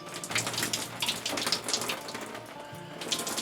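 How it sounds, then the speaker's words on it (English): Water runs steadily from a household faucet that will not shut off fully, a continuous splashing trickle with small droplet spatters, fairly quiet and close, with no voices. "Boy, that is not shutting that water off very good"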